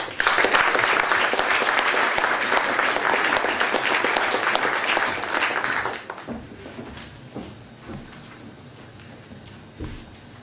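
A conference audience applauds loudly as a speaker is welcomed onto the stage, a dense steady clapping for about six seconds that then thins out into scattered claps and shuffling.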